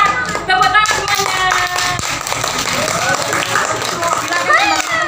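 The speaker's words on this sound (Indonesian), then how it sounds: "Tepuk tangan semuanya." Audience hands clapping at a school prize-giving ceremony for competition winners, a steady rapid patter of many claps continuing throughout under loud talking and music.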